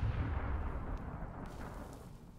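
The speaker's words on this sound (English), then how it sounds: "Your turret has been destroyed." Turret being destroyed in League of Legends, a heavy low rumbling explosion that starts loud and slowly fades, with faint crackles over it.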